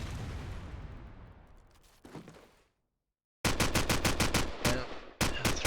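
AK rifle fire in the Call of Duty promod game on the Backlot map: a decaying burst, a brief silence, then loud, rapid automatic volleys of sharp cracks in quick succession, close and dominant.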